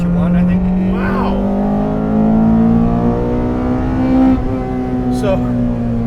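A 2014 Honda Civic Si, naturally aspirated at 260 wheel horsepower with stock 11:1 compression, drones loudly and steadily from the cabin as it accelerates, its engine pitch climbing slowly, with voices talking over it.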